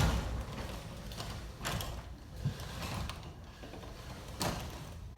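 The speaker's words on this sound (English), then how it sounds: "I'll open the door manually so that I can show you how balanced this" A garage door on a LiftMaster 8355-267 opener is pushed open by hand. It gives quiet rolling and creaking mechanical sounds with a few louder clunks and rattles as the panels and springs move.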